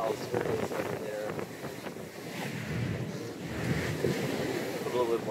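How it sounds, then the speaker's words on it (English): Continuous rushing ocean surf in 3 to 5 foot seas, heard from a moving Bayliner 4788 boat, mixed with wind buffeting the microphone, steady and fairly loud throughout. "The waves."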